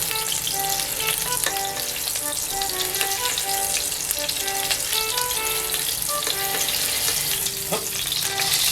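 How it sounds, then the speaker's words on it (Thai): Minced beef hamburger steak fries in a pan over low heat with a continuous dense sizzle and crackle, close by, while tonal background music plays underneath. "ให้เราใส่เนื้อบดที่เราปั้นมานะครับ ลงไปเลย ใช้ไฟอ่อนนะครับเพื่อที่จะทำให้มันค่อยๆสุกนั่นเองนะครับ"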